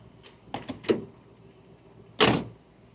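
On a 1954 Buick Special Riviera, a few light clicks and taps from a trim part settling, then a single sharp thunk as the door shuts, close and distinct in a quiet space.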